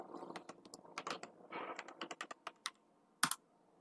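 Keys tapped on a computer keyboard while entering a username, a quick uneven run of close clicks that thins out near the end and finishes with one sharper tap.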